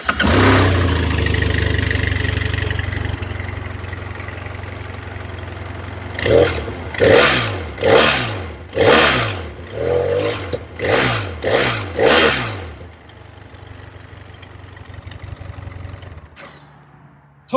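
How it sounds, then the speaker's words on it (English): A BMW F800 motorcycle engine idles steadily, then is revved in a run of about nine sharp blips that rise and fall, before it settles back to idle, close and loud with no talk. "I will now start the bike and let you listen to it not so throaty raw."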